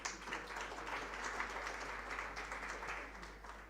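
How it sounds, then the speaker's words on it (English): Steady, fairly quiet applause from a conference audience at a scale-up summit, a dense wash of many hands clapping that holds evenly throughout without talk. "Please join me in welcoming her with a warm round of applause."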